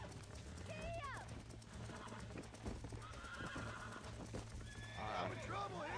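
In the video game Red Dead Redemption, a horse whinnies shrilly several times over rapid galloping hoofbeats, while someone shouts over the action.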